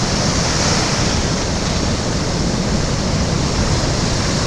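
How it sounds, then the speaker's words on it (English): Surf rolling in on an overcast day at a Costa Rica beach, a steady loud wash of breaking waves with wind noise across the microphone, continuous for the whole stretch with no voices. "And you can see the nice waves."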